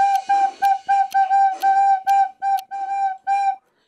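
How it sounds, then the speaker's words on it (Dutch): A beginner plays a flute, producing roughly a dozen short, breathy, wavering notes in an uneven halting sequence, close and fairly loud, with no talking. "Na dit uur gaan we natuurlijk kijken wie het beste die fluit kan spelen."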